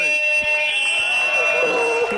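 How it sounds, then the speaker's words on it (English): Fire alarm sounding at a comedy night, a loud steady electronic buzzing tone running throughout, with agitated voices of the crowd talking over it. "Oh my god, he pulled the fire alarm,"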